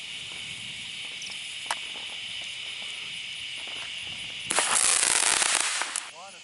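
Fireworks in an outdoor backyard-style setting, a loud crackling burst swelling for about a second and a half after a sharp early pop, over steady insect chirping and faint background voices.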